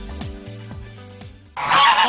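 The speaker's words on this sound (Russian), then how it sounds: "Они периодически устраивают небольшие концерты. Гуси с характером." Geese on a museum farm honking in a series of loud, nasal calls with a rough rhythm, close by, followed by a burst of harsh, noisy cackling at the end; no talking.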